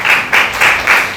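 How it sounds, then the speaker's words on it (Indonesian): Applause from a classroom of students, heard as four short bursts of clapping that swell and fade in a quick, steady rhythm, fairly loud and close, with no talk over it. "tepuk tangan dulu."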